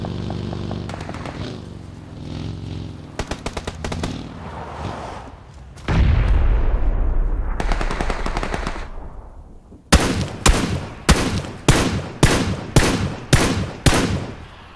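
Sniper rifle fire in PlayerUnknown's Battlegrounds: a run of loud, sharp gunshots at a steady pace of about one a second, each cracking and decaying, after earlier bursts of rapid gunfire and heavy rumbling blasts.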